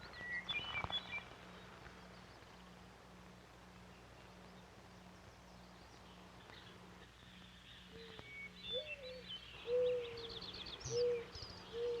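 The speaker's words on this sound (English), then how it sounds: "Near timberline, the handsome blue grouse is courting his mate" A blue grouse gives soft, low hooting courtship calls near timberline, a faint repeated hum under steady background noise, with a few higher bird notes later on.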